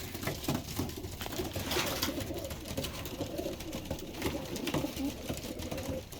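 Venus cross pigeons coo together in a loft, a steady murmur of overlapping low calls close by with scattered wing and shuffling noises throughout.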